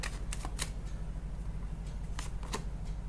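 Tarot cards are handled and drawn from a deck, giving a few quick, soft papery flicks and snaps spread across the moment over a low steady background hum.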